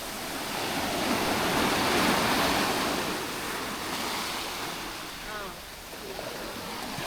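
Ocean waves wash onto a beach in Kannur, a continuous broad roar of surf with swelling and easing breakers, mixed with wind buffeting the microphone and no clear talk.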